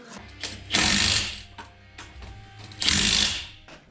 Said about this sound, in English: now we've done all of this up with a rattle gun